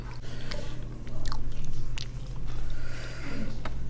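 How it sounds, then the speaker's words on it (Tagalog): Raw onion bitten and chewed at a pork adobo meal, close crunchy bites followed by wet, rhythmic chewing repeated several times, loud and near with no talk over it. "Kinakain ko. Sibuyas."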